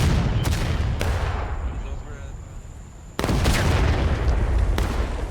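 Union cannon fire in a Civil War battle game set in the Maryland Campaign: a few sharp, loud booms, one early and a heavier one near the middle, each decaying into rumbling battlefield noise.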